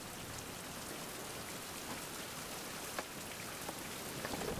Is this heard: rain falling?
yes